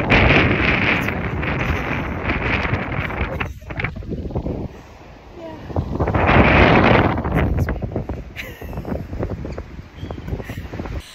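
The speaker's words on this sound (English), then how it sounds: "the only downside of the day we went was that it was incredibly windy." Strong wind buffets the microphone at a harbour waterfront in Cornwall, a heavy roaring rush that swells in gusts, eases briefly, then surges again with no voices.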